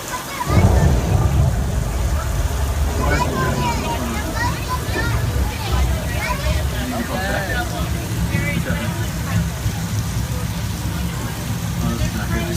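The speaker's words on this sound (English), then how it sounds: "And that's how we create rain for the movie." Artificial heavy rain and thunder pour down on a studio film set with a deep rumble, while voices talk and exclaim over the steady downpour.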